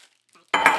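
Tissue paper crinkling and rustling loudly up close while Norlan whisky glasses are unboxed, a sudden burst that follows near silence with a faint earlier rustle.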